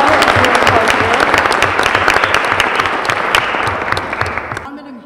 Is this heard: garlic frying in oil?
no